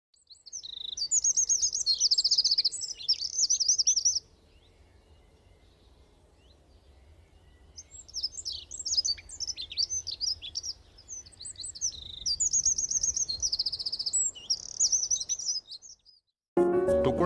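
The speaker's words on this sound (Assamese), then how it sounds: "ইয়াক ইংলিছত কোৱা হয় ব্লেক ব্ৰিষ্টেড ৱেভাৰ, আৰু বৈজ্ঞানিক নাম হৈছে ইয়াৰ প্লচিয়াছ বেংগালেন্সিছ" A black-breasted weaver (Ploceus benghalensis) gives bursts of high, buzzy chattering chirps in two long bouts separated by a quiet gap, close and clear over faint insect hum, with a thump at the very end.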